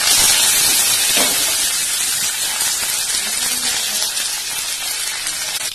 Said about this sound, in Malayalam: എണ്ണ ചൂടായാൽ നമുക്കതിലേക്ക് ഇതിട്ടിട്ട് വറുത്ത് കടുക് പൊട്ടിച്ച് എടുക്കാം